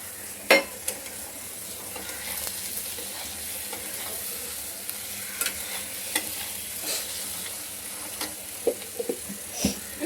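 Eggs fry in hot oil in a pan for egg curry, giving a soft, continuous sizzle broken by scattered clicks and scrapes of stirring.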